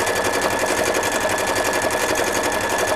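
A sewing machine stitches silver thread over white fabric on a winter apron. The needle runs in a fast, even, close-up rattle, loud and steady for the whole stretch, with no voices.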